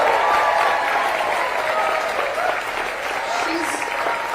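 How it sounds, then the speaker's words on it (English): A rally crowd in Pennsylvania gives a sustained round of applause for Congresswoman Liz Cheney, dense clapping with cheers and scattered shouts over it, steady and loud throughout. "I think we could give her a round of applause right now just to start"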